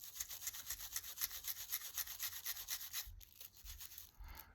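A nylon brush scrubs a dirty Kel-Tec Sub2000 rifle in quick, rhythmic back-and-forth strokes, close and faint, then slows into a few separate rubs.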